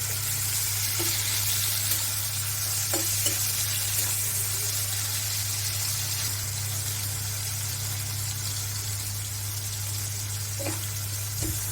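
Shrimp coated with salt, turmeric and chili powder fry in hot oil for a Malabar spinach dish, giving a steady, even sizzle that runs unbroken with a few faint clinks and no talking.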